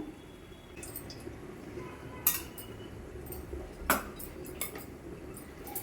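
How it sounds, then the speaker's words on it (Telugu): A kadai pan set down on the stove for fish curry, heard as a few faint, scattered metallic clinks and knocks against a quiet room background. "ఫిష్ పులుసు కోసం అని కళాయి పెట్టుకుంటున్నాను"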